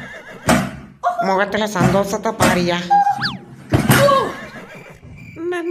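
A horse lets out a loud, quavering whinny among bursts of close talking and comic sound effects.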